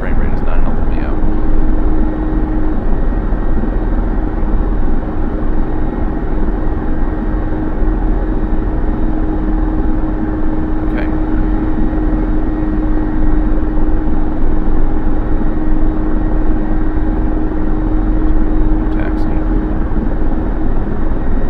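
A Mi-24P Hind helicopter air taxiing in the DCS simulator gives a constant loud engine and rotor drone with a steady tone, unchanging for over twenty seconds.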